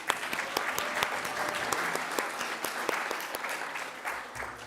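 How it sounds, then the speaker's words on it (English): Steady audience applause at a First Nations guardians gathering, many hands clapping at moderate volume, continuous and even for several seconds with a slight fade at the end. "let's give her a round of applause"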